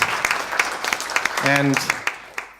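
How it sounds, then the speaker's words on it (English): An audience at a conference applauds, a steady wash of clapping with sharper individual claps popping out, while a speaker's voice briefly cuts in over the noise. "I think you all deserve a great applause"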